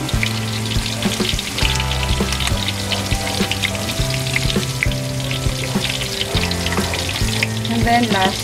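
Garlic sizzles and crackles in a hot pan for kare-kare, a close, steady frying hiss with small pops running throughout, joining onion already cooking, no talk.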